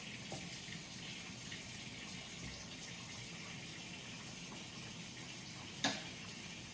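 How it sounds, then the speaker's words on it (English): Cold water runs from a kitchen tap, a faint steady splashing hiss that continues throughout, with a brief clink near the end. "So we're gonna get our cold water running."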